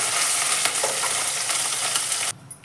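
Rice sizzles as it is stirred into garlic paste frying in a pan, a loud dense hiss with scraping stir sounds that cuts off abruptly near the end.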